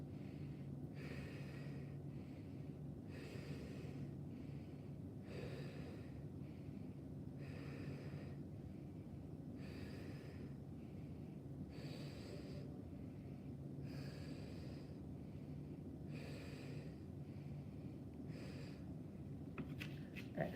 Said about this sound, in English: And here we go, 10 breaths.